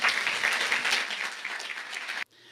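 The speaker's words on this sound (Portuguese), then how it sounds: "Vamos receber o nosso palestrante com um carinhoso aplauso." Warm audience applause welcoming a speaker at a church gathering, dense steady clapping at moderate volume that stops abruptly near the end, leaving quiet room sound.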